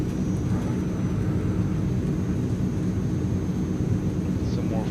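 Steady droning roar of the turboprop engines on a Transall C160 cargo plane in Microsoft Flight Simulator, a constant loud engine hum with a faint high whine above it, unbroken for the whole stretch.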